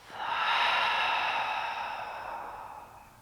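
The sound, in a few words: deep inhale through the nose, exhale out the mouth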